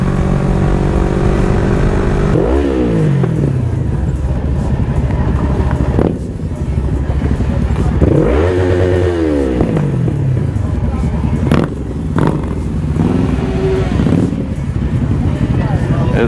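Open-piped Yamaha R1 and Honda CB500 motorcycles rev hard on a winding German road, with several rising and falling engine sweeps and shifts roaring up close, an occasional voice underneath.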